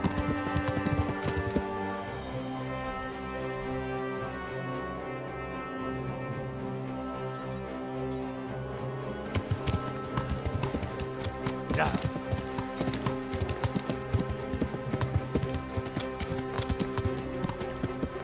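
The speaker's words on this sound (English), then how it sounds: "I've got like one of the fastest horses in the game, so it gallops" Hoof clip-clops of a horse trotting at a steady rhythm in Kingdom Come: Deliverance on Xbox run beneath game music, with a person briefly speaking.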